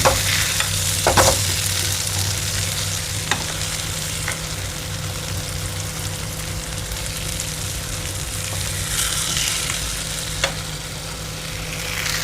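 Tomato egg fry stirred in a pan over a gas flame, a steady close sizzle with scraping stir strokes and occasional utensil clinks, plus a faint low hum underneath throughout.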